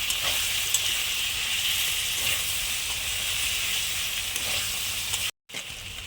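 Chili paste with salt and turmeric fries in a pan, a steady close sizzle and hiss that holds evenly throughout, cut off briefly near the end before resuming.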